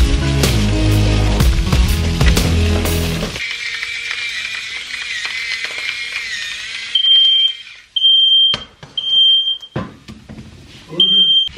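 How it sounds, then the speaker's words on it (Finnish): A kitchen smoke alarm going off after loud clattering, sounding in repeated piercing electronic beeps separated by short gaps, with a voice heard between them. "Jumalauta, lähti palohälytin soimaan."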